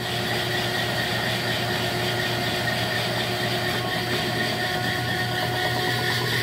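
A boat engine with a Velvet Drive 5000V transmission runs at a steady idle with a constant low hum and drone, close and unchanging throughout, with no voices.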